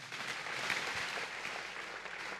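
A church congregation applauds steadily, a dense, even wash of clapping from many hands that holds at a moderate, fairly distant level the whole time.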